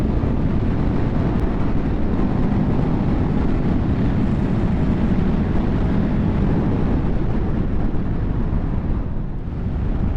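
A 2023 CFMoto 700CL-X motorcycle on the move, heavy low wind rush and engine rumble filling the whole stretch, steady and loud with no clear gear changes or talking.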